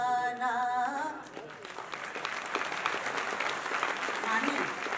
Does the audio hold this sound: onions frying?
no